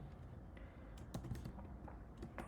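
Keys clatter on a computer keyboard in quick, uneven bursts while Java code is written, soft and close with no voice over it.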